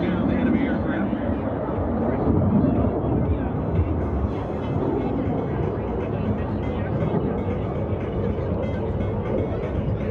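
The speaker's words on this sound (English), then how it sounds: "The F-35 now coming in the offensive position to shoot down the enemy aircraft." An F-35 fighter jet roars past at a military airshow, a loud, steady low rumble of jet engine noise filling the whole stretch, with a commentator's voice likely mixed under it.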